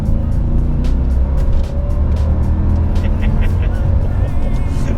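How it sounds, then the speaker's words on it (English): A 2007 Mercedes CL63 coupe's 6.2L V8 drones loudly from inside the cabin after a downshift, a deep steady engine rumble with a slight dip in the middle. "Drop a gear."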